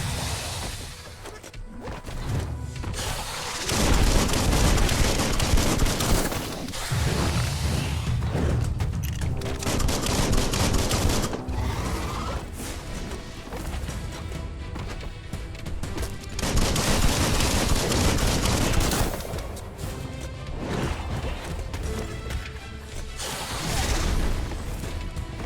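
Dense gunfire in the Biomutant video game, with machine-gun bursts, booms and crashing hits rolling almost continuously for about twenty-five seconds, loud and busy with no break.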